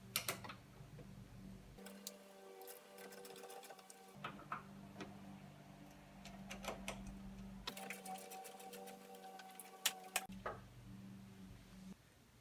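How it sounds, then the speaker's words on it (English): An 8mm socket wrench ratchets in quick clicking bursts while loosening the negative and positive battery terminals on a 2003-2004 Ford Mustang SVT Cobra, close and faint with short pauses between runs. "So we have a 8mm socket, and we're just taking off both the negative and positive battery terminals."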